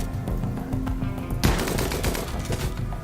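Colonists firing guns in RimWorld, a rapid run of sharp shots with a louder burst partway through, steady and continuous under a low game hum.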